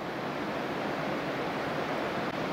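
Gentle waves lapping at a shipping canal shore on an autumn day, a steady soft broadband wash with no distinct breaks, heard alone without talk.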